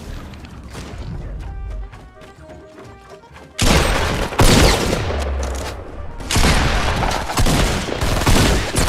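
Guns fire in the Fortnite video game in loud, dense bursts of rapid shots and booms, growing heavier midway, with voices under the shooting.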